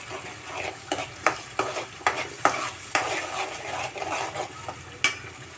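Masala fries in oil in a pan while it is stirred, a low sizzle under sharp, irregular clinks and scrapes of the spoon against the pan, with no voices.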